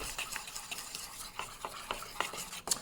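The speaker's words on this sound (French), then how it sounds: "Là, forcément, on remélange un petit coup." Homemade deodorant mixture being stirred in a container, soft, quiet scraping strokes repeating in an uneven rhythm, heard close with no talk.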